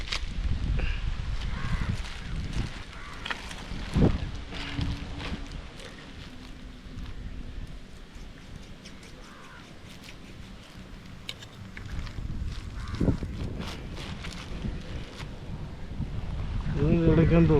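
Wind gusts buffet a fishing boat on the backwaters of Kerala, rumbling loudly at the start and end and easing in the middle, with occasional knocks and people talking in between.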